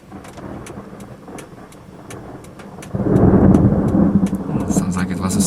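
Thunder from a cloud-to-ground lightning strike about 3 km away during a Florida summer storm, a deep rumble rolling in over steady heavy rain after a few seconds of rainfall alone.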